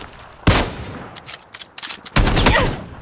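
Automatic weapon fire in a PUBG firefight: two loud bursts of gunfire, close up, with scattered quieter shots between them and no talk.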